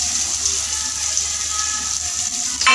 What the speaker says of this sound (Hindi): 1 मीडियम साइज़ का ऑनियन मैंने कट कर लिया है, अभी इसको पहले तेल में डालेंगे